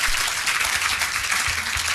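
An audience applauds a woman at a leadership session in Ghana, steady dense clapping filling the whole stretch at moderate volume with no voices over it.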